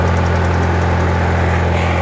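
A cold MTD lawn tractor engine running with the choke pulled out, a steady rough drone heard up close and continuous, with no talking.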